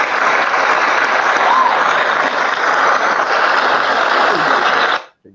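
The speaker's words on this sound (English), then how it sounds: "round of applause" An audience applauds steadily for about five seconds, a dense clapping wash that stops abruptly at the end.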